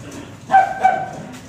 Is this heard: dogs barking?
yes